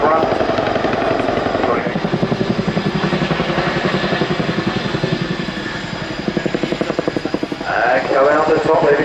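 An RAF Chinook twin-rotor helicopter flies at an air display, its loud rapid rotor thudding pulsing steadily and close, with the heavy drone swelling and shifting as it passes, and a commentator talking over it.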